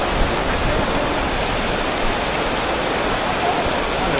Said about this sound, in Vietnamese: Mưa lớn lắm cả nhà ơi, đi không được luôn.